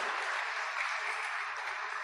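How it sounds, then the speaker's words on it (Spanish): A church congregation claps in sustained, dense applause at moderate loudness, with no pause and no distinct voices. "Denle un aplauso al Señor por esta verdad y por esta bendición."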